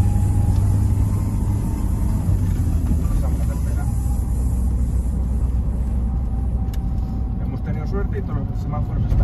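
A Lada Niva engine pulls hard in third gear while climbing away from green traffic lights, a steady loud rumble of revs rising under the cabin throughout, with a voice talking over it.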